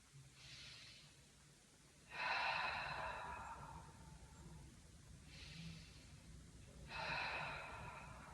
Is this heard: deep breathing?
yes